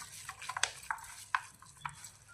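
Ground spice paste with mint and coriander is stirred and mixed for egg biryani, making faint scraping and light ticking against a bowl in a few irregular strokes, with no talking.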